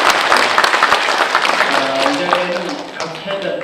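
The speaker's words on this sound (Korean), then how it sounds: "다시 한번 박수 부탁드리겠습니다." An audience at a general assembly of a social safety association gives a round of applause, dense clapping that starts strong and then thins, with voices starting to talk over it toward the end.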